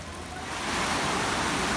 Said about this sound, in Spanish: Es una gran correntada de agua.